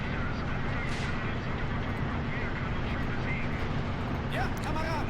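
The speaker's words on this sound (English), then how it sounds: "Firing heat rounds now." Artillery firing HEAT rounds in a Men of War: Assault Squad battle rumbles as a dense, continuous barrage of booms, with a voice talking over the noise.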